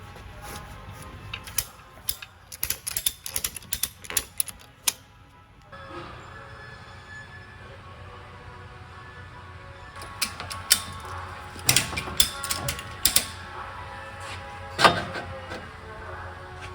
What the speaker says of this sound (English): Strap it to your lift here and start ratcheting away.